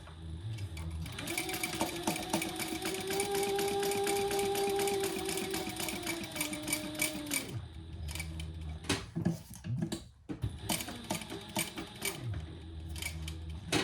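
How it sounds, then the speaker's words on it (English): A sewing machine topstitches a crossbody bag in a long steady run of fast mechanical whirring, then stops, followed by handling clicks and short bursts of stitching nearby. "we're going to top stitch that as well"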